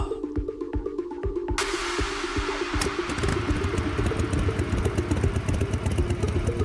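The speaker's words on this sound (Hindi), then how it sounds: "देविका ने अपनी बाइक पार्क की और सीधा अपने घर में घुस गई" A parked motorcycle's engine runs at idle, with a steady mid-pitched clatter and low rumble that start faintly, then swell loud and close and continue without a break.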